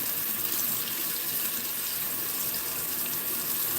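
Cold water runs steadily from a tap over a hand, a continuous broad gushing splash that stays even and close for the whole stretch, with no voices.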